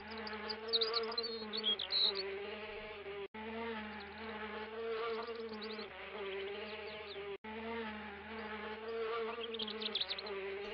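A fly buzzes in King's Quest III Redux with a continuous, droning whine that swells and wavers, broken by two brief silent gaps.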